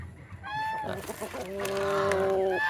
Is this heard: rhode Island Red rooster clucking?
yes